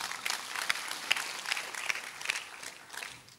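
A church congregation breaks into applause, a fairly faint but continuous patter of many hands with a few sharper claps standing out, fading slightly toward the end.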